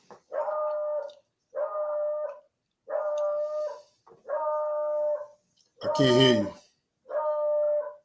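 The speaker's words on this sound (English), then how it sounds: "Can you hear my dog?" A dog howls and whines in six long drawn-out bursts with gaps between, and a person speaks briefly over one of them.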